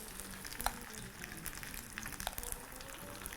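Seasoned fish pieces for British fish and chips frying in oil, giving a soft, faint, continuous sizzle with a few small pops and crackles.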